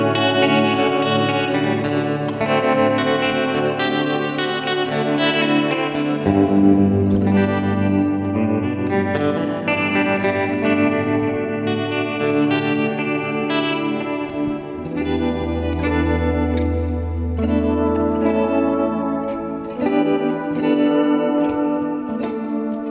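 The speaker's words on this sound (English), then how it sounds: "So now I want to just hear that detune." Electric guitar played through a Headrush Prime detune effect with chorus and delays switched off, sustained doubled chords and melodic lines ringing continuously and loud, with a low bass note swelling near the end.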